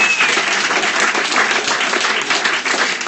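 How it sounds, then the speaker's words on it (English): An audience at a comedy roast tournament gives dense, sustained applause, loud and close throughout, with scattered voices mixed into the clapping. "clap it up for both these guys"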